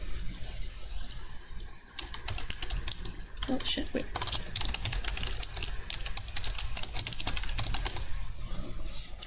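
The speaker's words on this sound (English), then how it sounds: "I hope the typing is not too bad." Dense, continuous typing on a computer keyboard at close range, with a rapid mechanical clatter of key presses running throughout and a brief spoken exclamation partway through.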